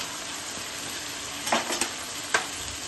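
Ginger paste and green chilli sautéing in a pan as water goes in for a khichuri of dalia, oats and vegetables: a steady low sizzle with a few brief stirring scrapes and splashes, close and fairly quiet.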